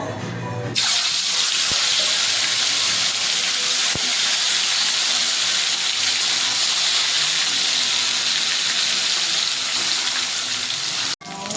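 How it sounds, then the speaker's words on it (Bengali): Chital fish pieces fry in mustard oil with a loud, continuous hissing sizzle that stays steady for several seconds and cuts off abruptly near the end. "মাছগুলো যেহেতু তেলের মধ্যে একটু ডুবু ডুবু করে ভাজতে হবে।"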